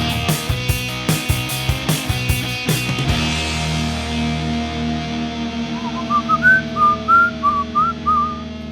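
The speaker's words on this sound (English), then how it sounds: "That was my attempt at whistling the Inspector Gadget theme song" A person whistles the Inspector Gadget theme song, bright melodic notes that come in over a rhythmic musical backing, close and clear, with no talking.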